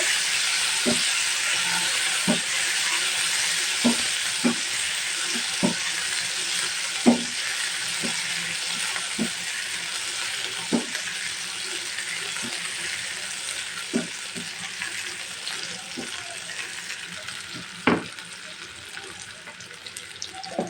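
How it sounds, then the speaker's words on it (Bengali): About a cup of chopped onion fries in hot oil for a bitter gourd and fish curry, giving a steady bright sizzle broken by periodic soft knocks and scrapes of stirring, with no voices. "এখন আমি ওই গরম তেলে পেঁয়াজের কুচিটা দিয়ে দিচ্ছি।"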